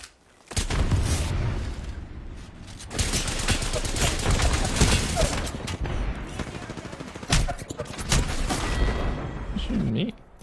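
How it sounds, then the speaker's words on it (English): Rapid bursts of video game gunfire crackle and boom almost continuously over several seconds, a brief lull after the first stretch, with a player's voice talking over the shooting. "Oh, I got shot by 2 people. Oh, I got shot by 3 people."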